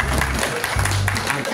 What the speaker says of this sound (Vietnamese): xin mời quý vị một tràng pháo tay cho Diêu Tăng Thích Minh Tánh.